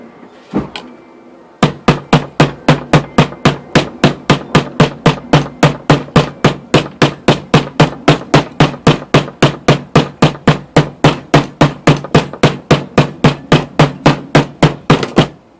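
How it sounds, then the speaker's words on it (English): Rapid, steady ball peen hammer blows on a quarter coin being shaped into a ring, dozens of sharp ringing strikes in even rhythm, close and loud, after one early isolated hit. "Might be able to try a heavier ball peen hammer."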